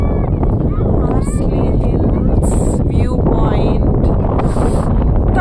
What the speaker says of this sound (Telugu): ఇక్కడ ఎంత గాలి వస్తుంది